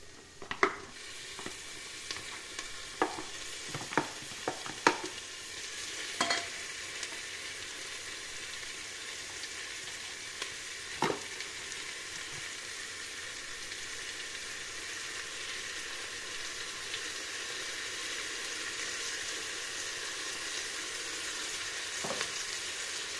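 Beef sautés in oil for a spicy erivu curry, a steady close sizzle running throughout, with a few sharp utensil clinks near the start and one or two more later.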